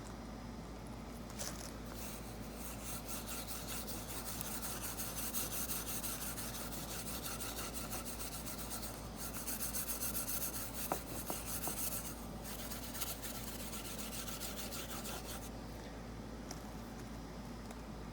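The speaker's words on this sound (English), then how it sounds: "I'm just going to rub the steel wool back and forth across this to try and flatten that out a little bit" Steel wool scrubs back and forth across the semi-gloss finish of a model railroad part, a steady close rasping rub that continues throughout with small surges, no talking.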